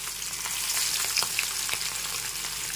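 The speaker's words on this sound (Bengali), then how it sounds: "এবার মাছগুলো ভেজে নিচ্ছি। হাই ফ্লেমে রেখে মাছগুলোকে ভেজে নেব।" Fish pieces frying on high flame in hot mustard oil for a Bengali doi mach (rohu fish curry), a continuous loud hiss and crackle of sizzling oil with small pops, close up and without talk.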